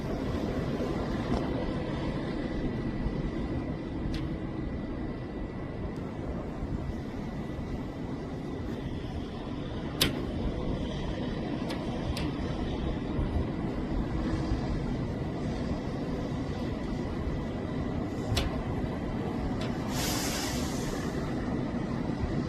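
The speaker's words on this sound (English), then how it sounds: "There's a helicopter over there." A distant helicopter drone hums steadily through the whole stretch, low and diffuse, with no voices and a faint rushing wind-like wash.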